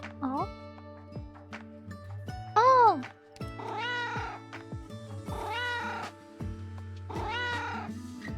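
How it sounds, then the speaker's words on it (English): A cat meows repeatedly in a series of drawn-out, rising and falling cries, fairly close, over a steady low hum and background music-like tones. "Classic meow."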